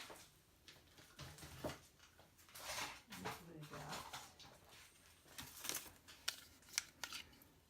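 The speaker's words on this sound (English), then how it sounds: "Let me get my ribbon scissors." Ribbon scissors are picked up and handled at a craft table, with scattered light metallic clicks, snips and rustling, faint and close, under a person talking while making greeting cards.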